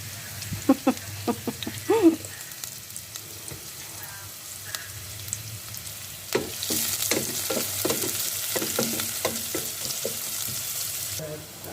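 Chopped onions go into a hot pan for sautéed radish with sardines. Several clattering stirs come first, then a loud, steady sizzle builds and continues with scraping strokes, close up and with no voices.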